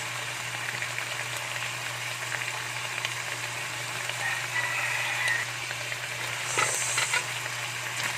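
Ginger hitting a hot pan for Bicol Express gives a steady, moderately close frying sizzle that runs throughout, with faint stirring scrapes and no talking.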